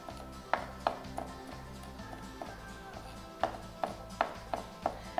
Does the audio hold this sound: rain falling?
no